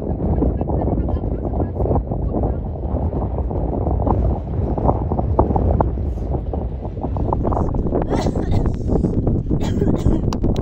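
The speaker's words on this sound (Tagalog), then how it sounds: "Pero ang daming hangin, oh." Strong desert wind in Qatar buffets the microphone in heavy continuous gusts, with people talking underneath.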